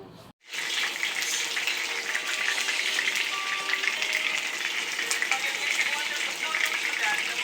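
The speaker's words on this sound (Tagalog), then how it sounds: "Sizzle, sizzle." Food frying in hot oil gives a loud, steady, close sizzle that starts abruptly after a brief quiet moment and continues unbroken, with no speech over it.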